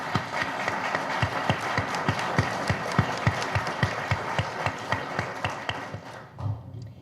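Steady applause from an audience at a panel discussion on women in business and fighting corruption, rhythmic hand claps carrying on for several seconds before fading out at the end.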